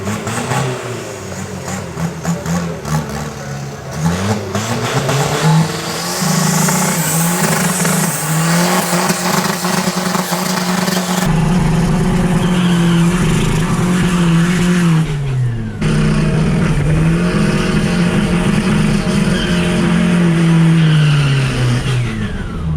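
A VW TDI diesel race car at a drag strip, nicknamed the banana, roars loud and close through repeated revving and accelerating runs, its engine note rising and falling with abrupt shifts and tire skids.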